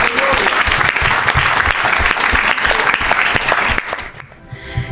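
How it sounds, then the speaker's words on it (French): A church congregation applauds Jesus Christ with steady, dense clapping that fills the room, continuing loudly before tapering off near the end. "Acclame Jésus-Christ."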